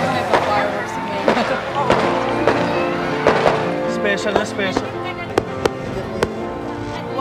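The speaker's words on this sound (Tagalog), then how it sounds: "May pa-fireworks ngayon." Fireworks go off outdoors on Christmas, several sharp bursts and crackles spread across the moment, mixed with people talking and exclaiming over them.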